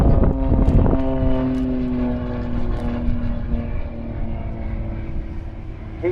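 A Blades display team aerobatic propeller plane flies a hesitation roll at a seaside airshow, its engine a loud, steady drone that rises and falls slightly as it maneuvers overhead.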